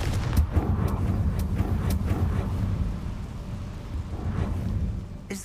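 A Confringo blasting spell cast in Hogwarts Legacy, with several sharp fiery bursts and rumbling impacts in the first two seconds, then a quieter stretch and a final crack at the end.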